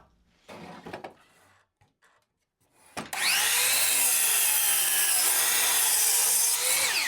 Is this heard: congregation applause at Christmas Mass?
no